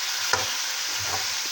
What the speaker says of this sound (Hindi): लहसुन अदरक डाल के बड़ा से भून लें ज़रा